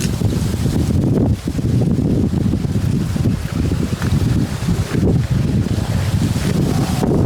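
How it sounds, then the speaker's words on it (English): Strong, continuous wind buffets the microphone outdoors in a subtropical garden on a warm winter day, a loud low roar with gusty swells and brief dips throughout, no one talking. "Sorry about all the wind."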